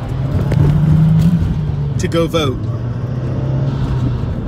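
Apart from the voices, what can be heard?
line of cars driving past at polling place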